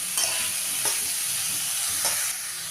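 Chopped vegetables with green chillies are tossed in a hot pan for veg paratha filling, giving a continuous close sizzle with three or four distinct scraping stirs and a quieter tail at the end.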